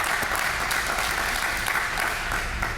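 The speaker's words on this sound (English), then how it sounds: "And I think that deserves a round of applause." Steady applause from an audience at a public event for a city transit summer youth pass, a dense, even wash of many hands clapping throughout with no break.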